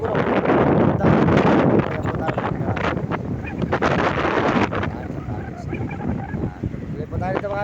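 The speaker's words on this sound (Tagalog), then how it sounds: "Malakas po ang hangin." Strong wind gusting outdoors at Karaing, a loud, steady roar of buffeting across the whole clip, with a person talking over it.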